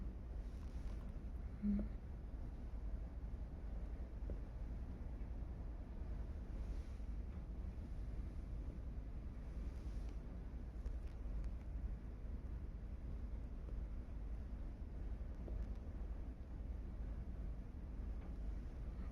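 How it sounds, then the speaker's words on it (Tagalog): Sea waves under steady wind, a continuous low rumbling roar of surf and wind buffeting the microphone throughout, with no talking. "Dako ang dagat karon."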